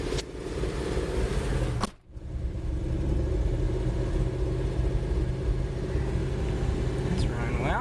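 A woodgas-fueled engine running without any gasoline keeps up a steady low rumble, with one brief dip near the start before the drone settles back to an even, close idle.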